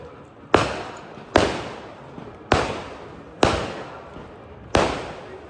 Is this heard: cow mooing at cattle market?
no